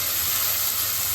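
Onion and curry leaves frying in hot oil with mustard seeds in a Tamil fish curry, giving a steady, dense sizzle and hiss that holds evenly throughout at close range, with no talking.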